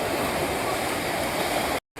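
Continuous rushing sea waves churning nearby at Digha beach, a loud steady roar that cuts out abruptly near the end.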